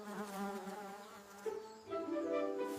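Bees buzzing continuously close by, a droning hum that wavers in pitch as insects move around, with no talk.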